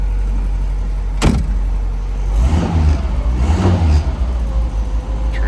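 A 1961 Mercedes 190SL engine turns over with a short sharp start, then runs roughly at close range, with a couple of revving surges before settling into a steady idle.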